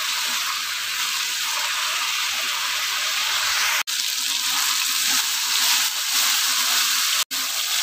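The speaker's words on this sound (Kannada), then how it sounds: "ಬದನೆಕಾಯಿ ಸಾಫ್ಟ್ ಆಗೋವರೆಗೂ ಫ್ರೈ ಮಾಡಬೇಕು." Brinjal (eggplant) fries in a pan as a steady, loud, close sizzle that barely changes, cut by two brief dropouts.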